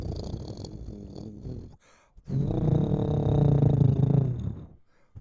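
A person imitates a cat's purr with a low, rumbling, vibrating sound, a brief opening burst, a short pause, then a sustained, steady purr, close and moderately loud.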